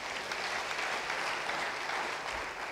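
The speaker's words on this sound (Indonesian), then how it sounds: "Yang mau beri tepuk tangan bagi dia." A church congregation claps in a steady, even round of applause that sounds somewhat distant and soft, with no voices on top.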